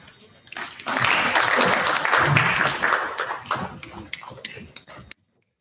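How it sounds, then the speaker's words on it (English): Audience applause at a World AIDS Day 2020 event in Uganda for Ambassador Brown, a full burst of clapping that swells, holds, then cuts off abruptly. "Another round of applause for Ambassador Brown."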